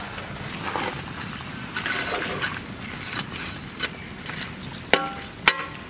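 Water is poured into a pan of mustard fish curry, a soft hissing, trickling wash that is fairly quiet and steady, ending with two sharp clanks of a utensil against the pan.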